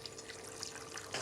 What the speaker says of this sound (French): On y ajoute un petit peu d'eau